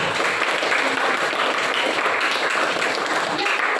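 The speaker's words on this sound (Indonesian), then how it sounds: "kita beri tepuk tangan untuk Brenda." A classroom of seventh-grade students claps after a classmate tells a legend, a dense, even burst of applause sustained across the whole moment.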